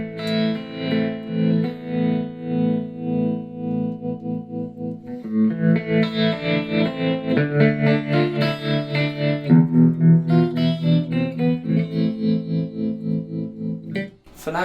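Electric guitar chords ring out with a shimmering, wavering chorus effect and a pulsing tremolo, loud and steady with no voices.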